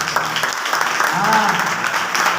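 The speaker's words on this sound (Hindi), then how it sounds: "परमेश्वर के लिए एक बार ताली बजा" Church congregation clapping together during a Hindi-language worship service, a steady patter of many hands with talk and voices mixed in over about two and a half seconds.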